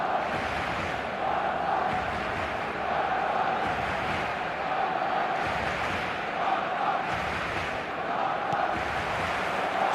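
Stadium crowd in an eFootball video game match: a dense, continuous roar of thousands of fans with rolling chants and swells, steady and loud throughout without a break.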